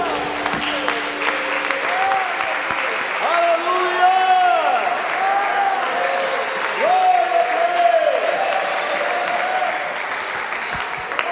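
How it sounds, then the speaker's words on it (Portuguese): A church congregation applauds throughout, a steady broad clapping wash under sustained sung or spoken voices and music, swelling slightly in the middle before easing toward the end. "Vamos aplaudir esse Deus."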